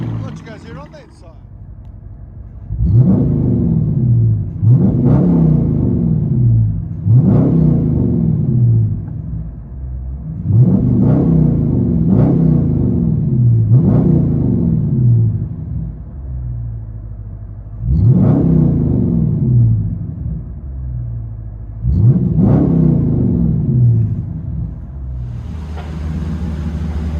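From inside the cabin, a straight-piped 2021 Dodge Charger R/T with the 5.7L HEMI V8 is revved repeatedly, each loud, deep blip rising sharply and then falling away, about ten in all with short gaps between them.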